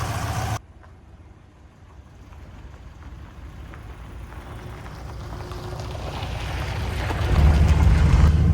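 A 1969 Rover P5B car engine runs while driving on a hot day with the driver's window open. A steady low rumble builds gradually and grows louder near the end, mixed with wind and road noise.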